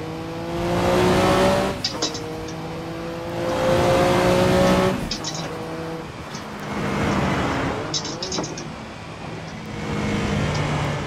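Race car engine in the Assetto Corsa racing game, revving through the gears with rising pitch and sharp gear-change breaks, driven cautiously at low speed, loud and continuous with no talk.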